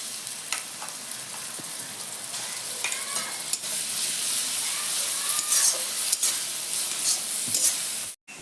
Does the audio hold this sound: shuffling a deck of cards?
no